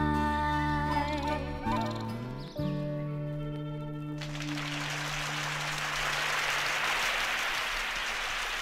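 Concert audience at Carnation Hall applauding after a performance. Sustained music and tones fade out partway through, then broad, even applause rises and continues steadily to the end.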